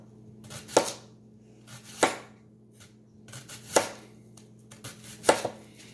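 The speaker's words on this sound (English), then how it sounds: "So I'm just going to do little slices" Knife slicing food into little slices on a cutting board for a pot roast with gold potatoes, five distinct chops spaced about a second apart, close and crisp, with a faint steady hum underneath.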